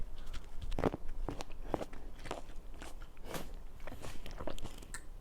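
Someone eating sweet fruit close up: repeated crisp bites followed by moist crunching and chewing in an irregular rhythm, fairly quiet, with no talking.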